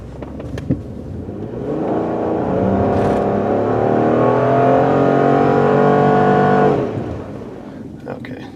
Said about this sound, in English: I'm going to try to do a little bit of a wide open throttle drive here.